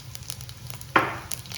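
Cumin and mustard seeds drop into hot oil for tempering, giving one sudden loud sizzle that flares up and then fades over about half a second, with no talking.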